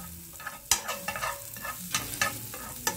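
Butter frying in a pan for chocolate chip pancakes, with a faint steady crackle under sharp scrapes and clinks of a spoon on the pan, close by.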